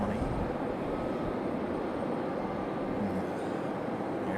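A JetBlue Airbus A320 at Raleigh-Durham airport produces a steady, continuous jet rumble with a faint high whine, heard from a moderate distance with no break.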